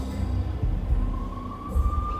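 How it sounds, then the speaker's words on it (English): Police sirens wail from the Max Payne video game, a thin rising tone held under a dense, rumbling game soundscape. "I could hear the sirens. Their wail was a crescendo."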